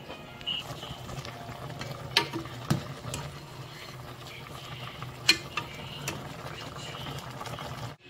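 Chicken adobo with potatoes cooks in a pan, and its liquid is being reduced. A low, steady bubbling simmer goes on throughout, broken by occasional clinks and scrapes of a utensil against the pan.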